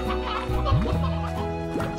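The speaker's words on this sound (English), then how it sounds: "Well, one of the chickens escaped." A chicken in the video game Slime Rancher clucks in a few quick rising calls over a steady background of game music.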